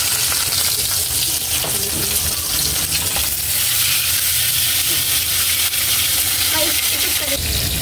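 Food sizzles and crackles steadily in a hot pan, with occasional scraping of a utensil stirring throughout.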